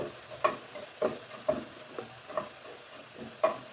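Crushed garlic frying in a pan while being stirred, with soft sizzling under a series of about six light scraping and stirring knocks at a slow, uneven rhythm.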